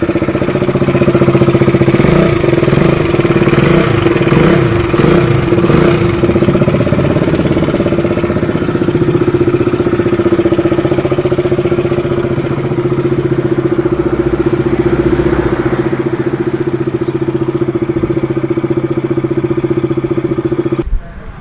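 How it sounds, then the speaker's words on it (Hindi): A KTM 200cc motorcycle engine runs steadily at idle, with a faint timing chain rattle and ticking in its steady drone throughout, close and loud. "तो आप देख सकते हैं इसमें थोड़ी टाइमिंग चेन की आवाज़ है।"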